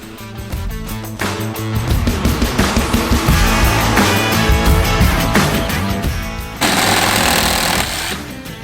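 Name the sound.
small hacksaw cutting through a Jeep TJ steering shaft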